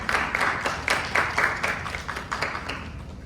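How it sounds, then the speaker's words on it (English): A small audience at a community campus planning meeting claps for a city transportation department team, a loose run of distinct claps at moderate distance, tapering off. "just a round of applause for them"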